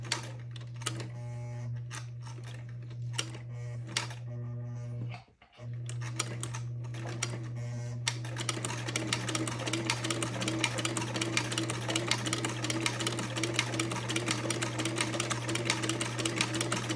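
A sewing machine stitches a gown with the presser foot down: a close, steady motor hum that stops briefly, then gives way to fast, continuous mechanical stitching chatter that runs to the end, with no talking.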